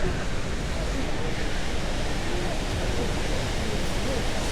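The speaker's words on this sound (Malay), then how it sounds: "Sudah sampai ke air terjun dia." A steady, loud roar of falling water from a waterfall fills the whole stretch without a break, broad and constant, heard from close by.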